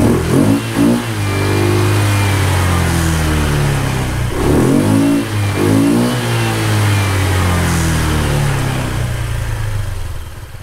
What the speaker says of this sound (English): that's pretty much factory exhaust sound, just with the variator and an intake